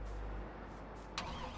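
Car engine in Farming Simulator 22, a brief low rumble that fades after the start, followed by a short sharp click, faint and without talking.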